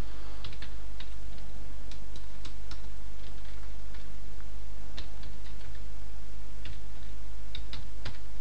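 Computer keyboard typing, a run of light scattered key clicks at close range over a steady low hum, with no talking.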